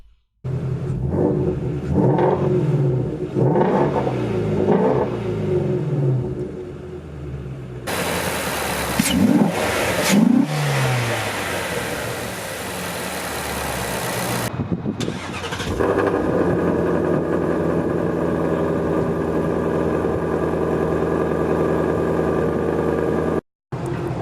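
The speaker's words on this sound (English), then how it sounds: "Now let's fire it up and hear the exhaust." A 2017 Ford Shelby GT350 fires up: a starter crank and loud exhaust bark, then throttle blips and revving that settle into a steady, rumbling idle, heard up close with no talking.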